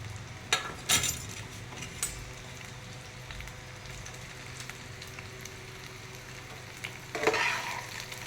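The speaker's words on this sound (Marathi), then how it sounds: "आता आपलं तेल गरम झालेलं आहे, आपण आता त्यात भेंडी घालून घेऊया" Okra dropped into hot oil in a pan, sizzling steadily, with utensil clinks and stirring scrapes near the start and a louder metallic scrape toward the end.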